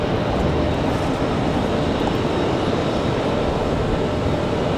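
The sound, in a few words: airliner touching down at Raleigh Durham airport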